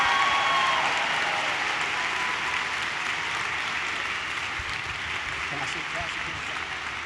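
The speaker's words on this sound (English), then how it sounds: "join me in another round of applause for our incredible class marshals" A large graduation crowd at Deerfield High School applauds the class marshals, a broad even wash of distant clapping that holds steady, with a voice briefly audible beneath it.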